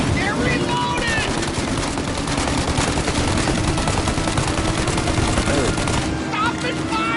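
A heavy, continuous volley of gunshots rattles in Mafia Definitive Edition, dense machine-gun fire filling the whole stretch while voices shout over it.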